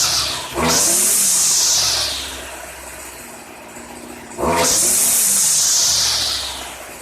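A Stihl FS 56RC string trimmer fitted with a new carburetor revs up twice, each rising to a loud, close high-pitched whine before falling back to a rough idle.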